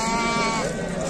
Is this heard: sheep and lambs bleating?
yes